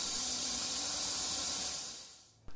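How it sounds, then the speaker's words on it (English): Air hissing steadily out of an air compressor drain valve, a loud close broadband rush that fades toward the end and cuts off. "I figured I should probably drain the compressor while I was at it."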